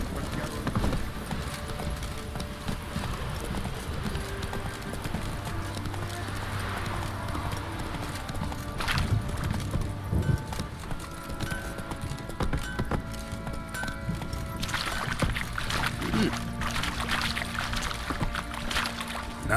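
Hooves of Roach, the horse in The Witcher 3, clip-clopping steadily at a moderate gait, fairly faint under ambient game sounds and music, with a voice speaking partway through.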